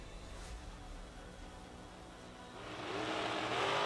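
Drag racing cars at a TB Promotions event rumble and rev at the starting line, a broad steady roar that swells louder into a launch toward the end, heard from a distance without talk.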